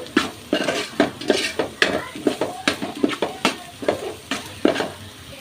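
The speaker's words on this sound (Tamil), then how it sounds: "இந்த மசாலாலாம் இதிலே நல்லா வதக்கி விட்டுக்கலாம்." Spice masala being stirred and sautéed in oil for a paruppu urundai kuzhambu, with a spoon scraping and clinking against the pan in a steady, repeated rhythm over a soft sizzle, close and clear with no talking.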